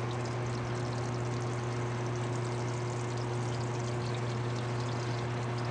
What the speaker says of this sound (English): Rinse thoroughly using abundant warm water, one hand at a time, starting with the fingers and moving up to the elbows.